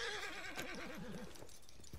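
A horse in the video game Red Dead Redemption 2 lets out one short, wavering whinny up close, its pitch rising and falling, with a faint hoof clop at the end.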